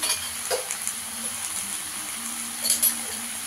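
Faint stirring and scraping in a pan of Bengali amudi fish chachari as turmeric, Kashmiri chili, cumin and coriander powders are mixed in, with a low steady sizzle and a few soft clinks of a spoon against the metal.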